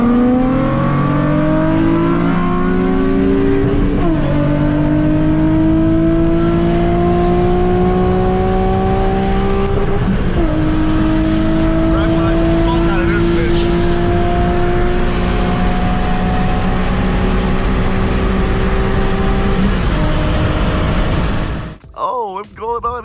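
A Nissan 350Z Nismo and a supercharged Honda Civic Si with headers, intake and tune race on the street, engines loud and close, revving up through several gear shifts in a long continuous roar.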